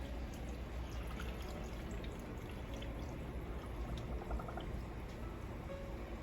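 Water poured into an aquarium water pump before it is plugged back in, a steady faint pouring and trickling wash that continues evenly without talk.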